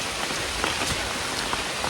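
Rain falls steadily during a trek through plantations in Bali, a dense, even hiss of drops striking leaves and ground close by, with scattered louder patters and no voices.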